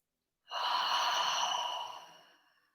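A single long, deep exhale during a guided breathing exercise in a full moon healing ceremony, a steady breathy rush that swells quickly, holds, then slowly fades out, close and alone with no talking.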